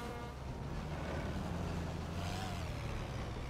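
A tour vehicle drives along the Jurassic Tour track in the dinosaur park game Jurassic World Evolution, giving a steady, continuous engine rumble with a low hum that holds even throughout, with no talking.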